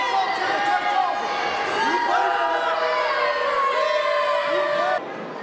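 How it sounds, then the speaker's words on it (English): A crowd at a wrestling event boos and jeers, a sustained wash of many voices with rising and falling tones, with commentary talking over it before the noise cuts off near the end. "Listen to the boos there from the crowd"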